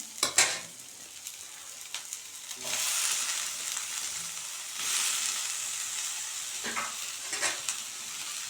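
Onions and tomato being sautéed in a pan for spicy kara chutney: a soft, steady sizzle with swelling bursts of louder frying as the mixture is stirred, plus occasional utensil scrapes, without voices.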